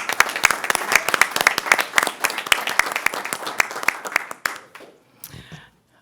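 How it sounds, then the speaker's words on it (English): An audience at a fire district board meeting breaks into brisk, dense applause that holds steady for several seconds, then thins out and fades. "Round of applause."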